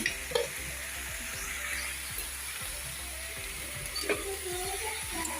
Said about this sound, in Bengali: পেঁয়াজের পাতা দিয়ে ডাল রান্না করছি